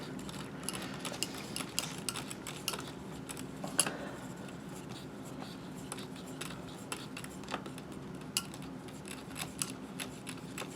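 Glass rod stirring sodium hydroxide solution in a lab experiment: a steady run of small, sharp clinks and ticks over a low, constant background hum, close and moderately quiet.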